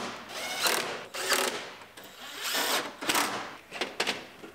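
A power tool bolts a headlight into place on a 2019 Ford Explorer, several short ratcheting bursts of driving and whirring with brief pauses between them.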